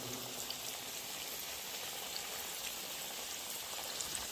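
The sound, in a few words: churros dough frying in a pan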